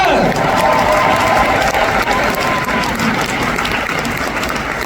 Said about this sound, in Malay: Tepukan untuk Ayahanda dan Bonda.